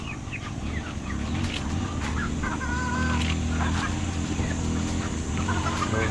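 Free-range chickens cluck and chatter around feeding time, several birds making close, busy, overlapping clucks throughout.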